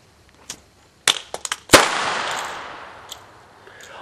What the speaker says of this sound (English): It's a very satisfying explosion, and people are going to know they're hit because of the smoke.